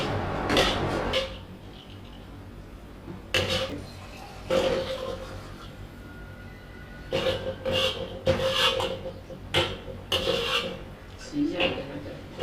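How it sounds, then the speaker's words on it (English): Rice cake mixture is stirred in a hot wok, giving intermittent scraping and rasping strokes of a utensil against the pan, close and moderately loud, in irregular bursts with quieter pauses between. "it's just using the heat from the wok to stir and make sure that all the flavors are properly mixed in"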